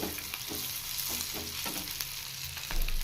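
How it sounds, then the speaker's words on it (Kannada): Mint leaves and roasted gram frying in a pan for mutton sambar, a steady close sizzle with recurring stirring scrapes and one heavier low thump near the end. "ಪುದೀನ ಚೆನ್ನಾಗಿ ಫ್ರೈ ಮಾಡ್ಕೋಬೇಕು"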